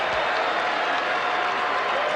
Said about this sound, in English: We're still applauding the team here